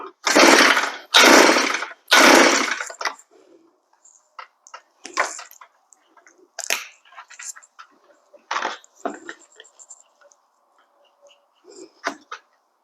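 Pull-start attempts on an Earthquake auger's small gas engine: three loud, rasping bursts of cranking up close, followed by scattered clicks and brief knocks, with no sustained running.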